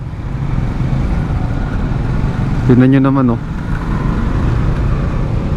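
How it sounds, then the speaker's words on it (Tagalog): Heavy urban road traffic of cars and motorcycles on a rainy day, a steady loud engine and tire roar throughout, with someone speaking briefly over it midway. "Nga lang, medyo traffic ngayon."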